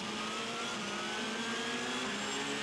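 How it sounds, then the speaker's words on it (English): A hybrid prototype race car at the 2017 24 Hours of Le Mans screams down toward Mulsanne, its engine a steady, loud whine that climbs gradually in pitch with no voices. "Nick Tandy screaming down now into Mulsanne"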